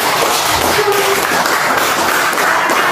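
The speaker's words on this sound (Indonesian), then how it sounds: "Beri aplaus dulu untuk kelompok 1" A classroom of students applauds group 1 after its presentation, steady close-range clapping from many hands forming a dense, even patter throughout, with a faint voice briefly underneath.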